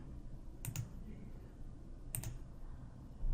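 A computer mouse clicks while someone works in Power BI Desktop: two quick double clicks about a second and a half apart, crisp and close but quiet over a low room hum, with no speech.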